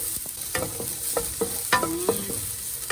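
Onions sauté in olive oil in a pan with a soft background sizzle broken by several close scrapes and clinks of a utensil stirring them.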